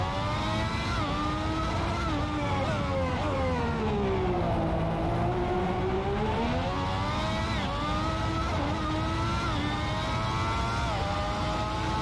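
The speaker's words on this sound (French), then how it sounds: "ensuite je vous laisserai profiter et de l'ambiance du circuit et du fameux V12 de cette Ferrari" A Ferrari 641 Formula One car with a V12 engine races around Monaco in Assetto Corsa. The engine screams loudly and without a break, its pitch climbing and dropping through gear changes as the car speeds up and brakes around the circuit.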